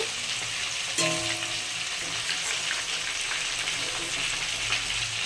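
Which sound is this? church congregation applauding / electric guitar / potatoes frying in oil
potatoes frying in oil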